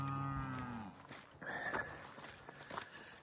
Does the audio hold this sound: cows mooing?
yes